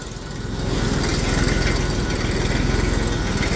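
A tractor engine running on a rural farm road, a steady, loud low rumble with a fast regular chug that builds slightly in the first half-second and then holds constant, close by with no voices.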